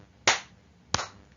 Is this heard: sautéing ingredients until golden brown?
no